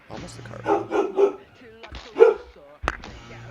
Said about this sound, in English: Sorry about the dog barking, y'all.